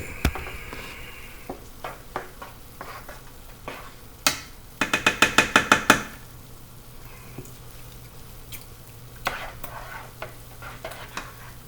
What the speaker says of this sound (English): The cheese is melting.